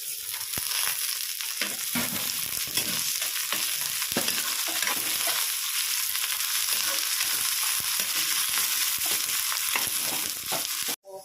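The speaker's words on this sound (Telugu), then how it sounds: "వేసుకొని ఫ్రై చేసుకోవాలండి ఆనియన్స్ వేసుకోవాలండి" Sliced onions with curry leaves sizzle steadily in hot oil for rice flour upma, a continuous close frying hiss broken by frequent scraping stir strokes from start to finish.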